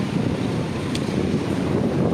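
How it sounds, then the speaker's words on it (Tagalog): Strong wind outdoors at the SM City Cebu mall expansion in Cebu buffeting the microphone in a steady, loud, low rumbling roar with no break. "Perting hangin na mga ka-DJ."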